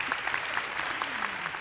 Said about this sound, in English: they deserve a clap for sure